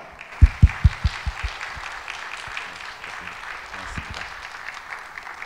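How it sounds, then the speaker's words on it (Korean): A church congregation claps steadily in a room to welcome a missionary speaker, with a few sharp, louder claps near the start standing out from the wash of applause. "큰 박수로 환영하겠습니다"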